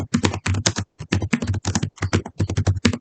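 Steady typing on a computer keyboard, quick close clicks in bursts with short pauses between, alone without any talk.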